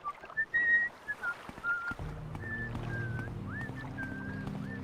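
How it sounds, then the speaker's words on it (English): An NPC in the video game Morrowind whistles a tune: clear, thin, wavering notes come in short phrases, first alone and then over a low steady ambient drone. "this guy's whistling"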